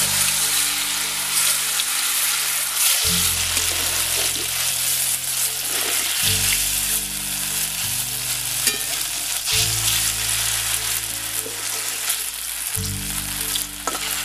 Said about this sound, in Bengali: এবার ওই তেলের মধ্যে সোয়াবিনগুলো দিয়ে দিচ্ছি।